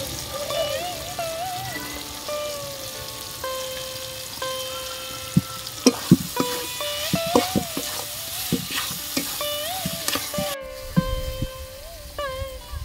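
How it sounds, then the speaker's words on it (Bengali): Ridge gourd cooks with chili and coriander powder in a pan for a moonglal jhinge dish, giving a continuous sizzle while a spoon scrapes and clinks steadily, with sharper knocks in the middle. "মশলাটা দিয়ে 1 মিনিট মতন কষিয়ে নিয়েছি ভালো করে"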